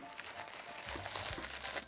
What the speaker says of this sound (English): And let's open these bags, these Ziploc bags for now.